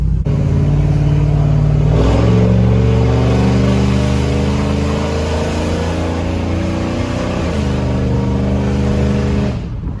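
A 1999–2006 Chevrolet Silverado pickup with a newly installed oil catch can accelerates hard on a test drive, its loud, close engine droning steadily with rising revs and a gear shift partway through, no voices.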